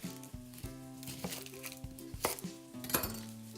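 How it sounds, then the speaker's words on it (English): An onion is finely diced on a cutting board, quick knife taps knocking out an uneven rhythm, close and fairly quiet, with faint kitchen clinks. "we're gonna chop up some onion, okay? So we want some finely diced onion here."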